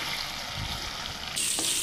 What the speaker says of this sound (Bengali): অনেকগুলো পনির অর্ধেক অর্ধেক করে ভাজবো।